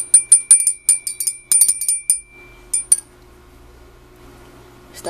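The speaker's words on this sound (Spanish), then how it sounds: "Aquí tenemos la campana." A small metal collector's bell from a Bloodborne Nightmare Edition is rung close by, giving a rapid series of bright, ringing dings in bursts that then stop, leaving quiet handling noise.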